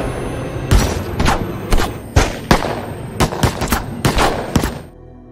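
Police open fire on a man in an action film: a rapid, irregular burst of about a dozen loud, close gunshots that fills the whole stretch, with no talk.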